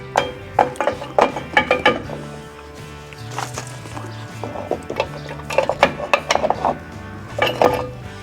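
Drum brake shoes and metal parts being handled and fitted on a Mercury Meteor, a series of sharp metallic clinks and taps in irregular clusters, close and fairly loud, with no talk.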